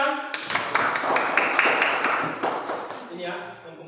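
Students in a classroom clapping for a group, a burst of close hand claps that swells and then tapers off, with a voice speaking over the end.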